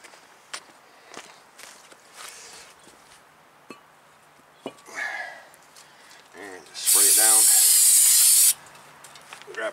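An aerosol brake cleaner sprays onto a towel during a brake job on a 2003 Toyota Corolla, giving a loud steady hiss lasting about two seconds near the end, after scattered handling clatter and footsteps.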